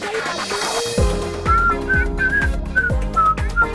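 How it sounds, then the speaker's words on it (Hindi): A person whistles a short tune in a comedy scene set at a water park, with clear high whistled notes running over a steady musical backing with rhythmic bass hits. "लड़कियों को सीटी नहीं बजाना चाहिए।"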